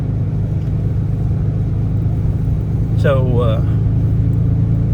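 A rusty, worn-out truck driving along, its steady low engine rumble running unbroken through the whole stretch, with someone briefly speaking near the end.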